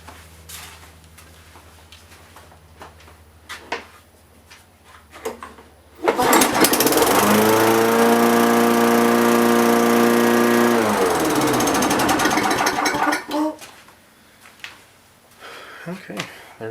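Small Tecumseh engine primed and then started, preceded by clicks and handling noises, then roaring to life with a loud, steady running drone for about seven seconds before shutting down to quieter clatter.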